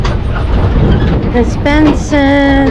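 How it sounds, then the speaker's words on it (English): A tram rolls along at Lovers Key State Park, a loud continuous rumble with wind noise, while people talk over it. "We're on the tram at Lovers Key State Park."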